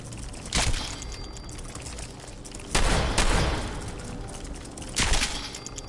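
Gunfire in Fallout 4 as Mirelurks are shot: three sharp, loud blasts spaced a couple of seconds apart over a dense, rushing game background, with no talking.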